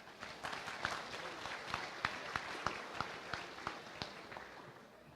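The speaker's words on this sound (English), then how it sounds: "Let's give him a round of applause." Faint, distant applause rises from an FFA state awards audience in a large hall, a steady patter of scattered claps that carries on without a break for several seconds.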